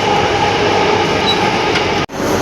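Loud, continuous rumble of a Bengaluru metro train in motion, with a brief dip in the noise near the end before the steady roar resumes.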